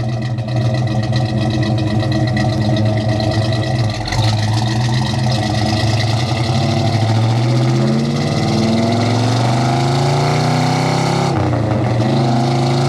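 Loud, close engine roar of a 1969 Pontiac GTO Judge with a Ram Air III engine under way, climbing steadily in pitch through the gears with a brief dip between shifts and no talk.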